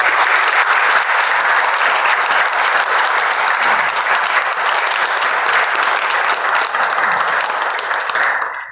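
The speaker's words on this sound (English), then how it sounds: "let's give Tom and Sue a big round of applause." An audience at a ribbon cutting applauds loudly and continuously, a dense wash of many hands clapping close by that holds steady before tapering off at the end.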